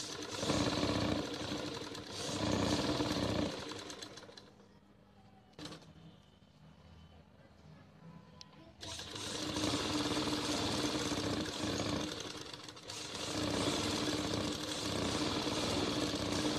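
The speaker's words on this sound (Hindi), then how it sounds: "पट्टी पे सिलाई लगा लिए दोनों साइड।" A sewing machine stitches along the edge of a fabric strip in rapid mechanical bursts, running loud, pausing for several seconds, then starting again and running steadily to the end.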